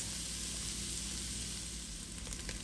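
Diced jalapeno for chili cooking down in a pot, giving a steady, close, continuous sizzle and crackle of frying with no talking.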